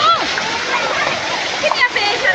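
Children splash and wade in water outdoors in a village, giving bursts of splatter and sloshing close by, with voices talking over the watery noise.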